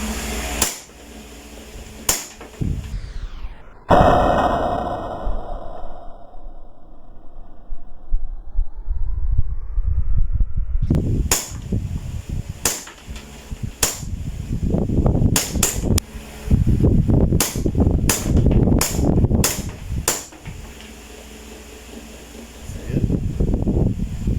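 A WE 1911 airsoft pistol fires close and loud: a couple of sharp snaps, a pause, then a rapid string of crisp cracking shots with mechanical clacks between them.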